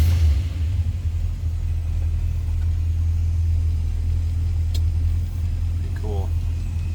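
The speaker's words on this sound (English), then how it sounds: "6-volt system, so it'll turn over slow and then fire up. If you can hear that run" A 1935 Pierce-Arrow Model 845 enclosed driver limousine with a 6-volt system idling just after a cold start, a steady deep low rumble that carries evenly throughout, with a brief faint voice near the end.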